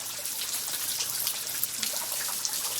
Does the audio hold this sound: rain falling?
yes